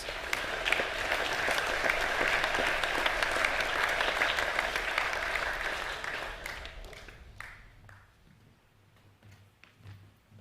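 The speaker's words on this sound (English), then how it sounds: "Please give a round of applause for the Year 10 Academic A winners." Sustained applause from boys and staff at a school academic awards assembly for Year 10 Academic A winners, a dense crowd clapping that fades out over the last few seconds to scattered claps.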